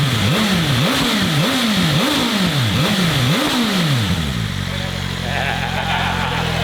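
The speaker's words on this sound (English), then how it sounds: "Riding a motorcycle" A 2026 BMW motorcycle revs hard while riding, its engine climbing and dropping in about six quick rising sweeps before settling into a steady drone, with loud wind rush throughout.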